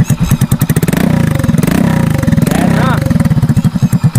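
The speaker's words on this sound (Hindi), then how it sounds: "आपको एग्जॉस्ट साउंड सुना देता हूं" Modified exhaust on a Hero HF Deluxe motorcycle, loud and close, pulsing through a choppy idle and then swelling in two revving bursts, with someone speaking briefly over it.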